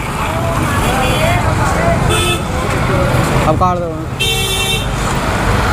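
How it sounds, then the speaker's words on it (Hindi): Heavy road traffic near the Taj Mahal in Agra rumbles constantly, with several car horns honking in bursts, some long and loud, while people talk nearby. "यहाँ पे भी बड़ा ट्रैफिक है।"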